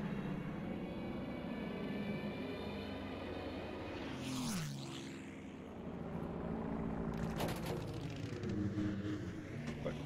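Stuka dive bomber engine droning steadily in Battlefield V, a continuous propeller hum held for about ten seconds, with a brief swooping pitch change midway and no speech over it.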